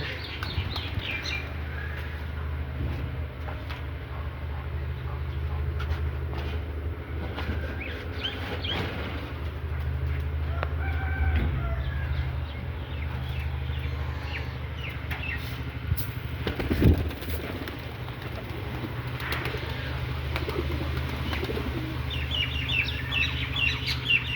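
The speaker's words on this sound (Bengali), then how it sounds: "কবুতর খাবার খাওয়ার জন্য আসতেছে" Pigeons gathering to feed give soft, low cooing and a few scattered calls over a steady background hum, close by and moderately faint throughout.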